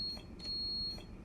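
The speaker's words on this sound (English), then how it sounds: "There's the driver's buzzer" Driver's buzzer in the cab of an HST Class 43 power car in Train Sim World 3 on the Midland Main Line, a thin steady high-pitched tone lasting about a second, close and fairly quiet over a low rumble.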